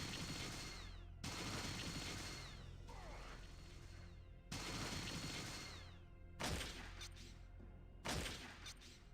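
Automated turrets firing in Fallout 2, loud broadband bursts of gunfire arriving in several distinct volleys with brief gaps between them, no talk over them.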